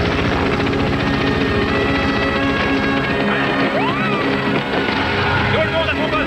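A helicopter roars loudly and steadily throughout, its rotor chop filling the scene, with voices speaking beneath it during a hostage standoff.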